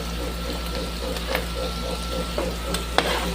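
Shrimp and aromatics sautéing in a pan make a steady sizzle with occasional stirring clicks and scrapes, close and fairly loud, with no speech over it.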